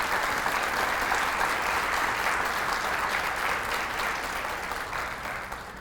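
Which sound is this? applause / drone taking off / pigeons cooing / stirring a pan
applause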